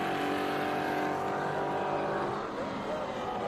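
Vintage race car at Laguna Seca going back on throttle, a steady loud engine drone with sustained harmonic tone rising slightly as it accelerates, heard from trackside.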